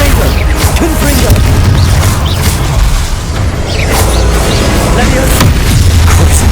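Confringo fire spell explosions in Hogwarts Legacy, heavy booms and crashes with mechanical clanks and crackle, loud and continuous across the battle with no pauses.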